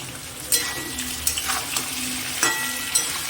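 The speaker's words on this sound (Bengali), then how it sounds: "তেল গরম হয়ে গেছে, এবার আমি কালো জিরাটা ফোড়ন দেবো। আলুগুলো দিয়ে দেবো।" Potatoes frying in hot oil tempered with nigella seeds, a steady close sizzle broken by several sharp scrapes and clinks as a utensil stirs the pan at irregular intervals.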